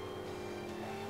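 A race car engine drones steadily through a lap of a small circuit in Forza Motorsport 5, a constant mid-level hum with no break and no talk over it.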